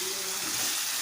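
Potatoes frying with tomato paste and spices in a pan, a brief soft sizzle with a hissing wash and faint stirring.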